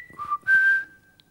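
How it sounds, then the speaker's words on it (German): A person whistles a short two-part call, a brief rising note followed by a longer sustained tone, loud and close with faint background behind it. "Kennst du den Pfiff?"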